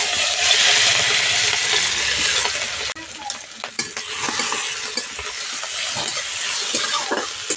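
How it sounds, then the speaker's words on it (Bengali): Small prawns sizzle loudly in hot mustard oil in a wok, the hiss dropping abruptly partway through, followed by stirring scrapes and light clinks against the pan. "প্রথমে চিংড়ি মাছটা ভেজে নেব।"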